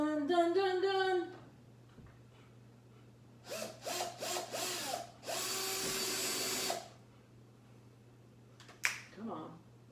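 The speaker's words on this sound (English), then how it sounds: "I want to drill a hole in the wall" A power drill boring into a wall while a light fixture is installed, heard as several short whirring bursts followed by a longer steady grinding run. A voice hums briefly at the start.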